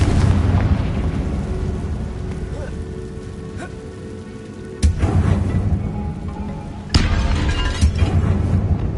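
A Confringo blast spell in a wizard video game lands as two sharp explosive bursts a couple of seconds apart, each with a crackling tail, over a steady rumbling ambient background.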